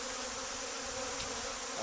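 A continuous close buzz of honey bees swirling over an opened hive, steady and fairly loud throughout with no voices.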